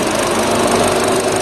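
A steady, close Kia Sonet HTK Plus engine drone hums continuously with a slight rattly vibration, idling with the AC on.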